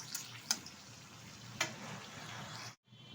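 Chopped onion frying in a pan while Bengali-style dal is made, a soft steady sizzle throughout with a couple of light clicks, then it cuts out abruptly near the end.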